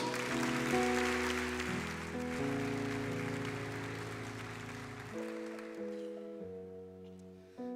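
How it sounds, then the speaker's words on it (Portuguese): A church congregation claps along under loud sustained keyboard chords during a worship service, the clapping fading out partway through while the music continues. "pode aplaudir o Senhor Jesus"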